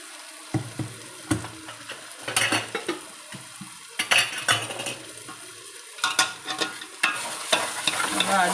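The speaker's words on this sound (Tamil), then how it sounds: "நல்லா அடி பிடிக்காத நல்லா வந்து கிளறிக்கணும்" Masala for biryani being stirred and scraped in a frying pan, with repeated utensil clanks and scrapes over a soft sizzle, close and moderately loud, no talking.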